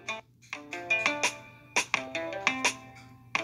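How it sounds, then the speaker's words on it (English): A phone notification ringtone plays a bright, repeating electronic melody of short tonal bursts, loud and close, with no talk over it. "So why do you torture yourself by getting notifications every time he posts a new pic?"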